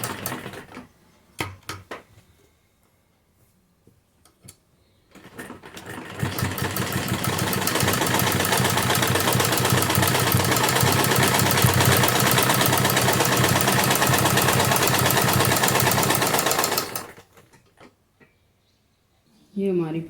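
A sewing machine stitches a strip onto a kurti neckline, a loud close continuous whir lasting about ten seconds, framed by clicks, fabric handling and a quiet spell before and after.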